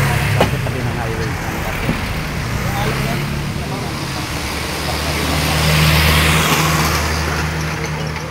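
Steady roadside traffic by a highway in Cardona, Rizal, with cars and heavier vehicles rolling past in a continuous wash that swells as a louder vehicle passes midway, with people talking nearby.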